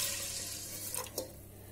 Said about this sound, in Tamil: ஸோ நான் 6 கப் தண்ணி ஊற்றிக்கிறேன்.